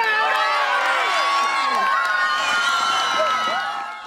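A crowd of schoolchildren cheers and shouts for runners at the start of a relay race, a dense, continuous wash of high voices and whoops close by that fades slightly at the end.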